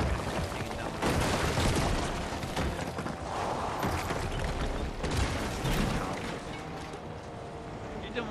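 Gunfire in the video game Fortnite: bursts of loud, broadband crackling shots dominate the mix, with a dense flurry around the middle and a final volley, all over continuous background game noise.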